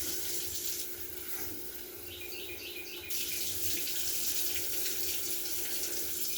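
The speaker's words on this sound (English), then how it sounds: "So I'm going to rinse these real quick." Tap water runs steadily into a sink while baby bella mushrooms are rinsed beneath it, a close continuous splashing hiss that turns briefly brighter and louder partway through, with no speech.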